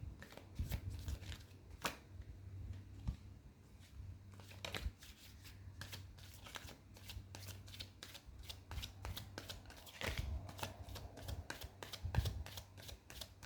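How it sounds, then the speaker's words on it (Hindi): Tarot cards are shuffled close by in a quiet room, giving repeated riffling and slapping bursts at an irregular pace across the whole stretch. "थोड़ी सी शफलिंग मैं करूँगी आज क्योंकि कार्ड्स की प्लेसमेंट बहुत इम्पॉर्टेंट है"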